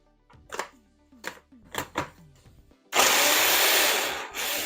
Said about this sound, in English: I'm going to be using my crusher to crush this now